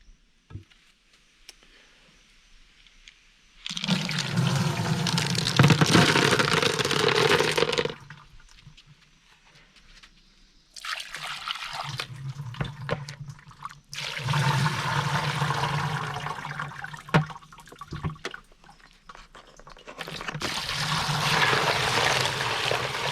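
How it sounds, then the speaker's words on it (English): Water runs and splashes over polished rocks being rinsed clean of coarse tumbling grit, coming in several loud bursts of flowing, spattering water separated by quieter pauses. "Then once more, we rinse off our rocks"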